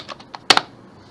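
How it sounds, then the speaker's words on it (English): A phone number is typed on a computer keyboard at a customer order screen: a short burst of several close, crisp key clicks, the last two the loudest. "Let's enter this phone number again."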